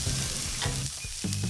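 Fish caught from a creek sizzles and fries on an electric grill outdoors at a campsite, a steady close crackling hiss with faint stirring clicks and no talk.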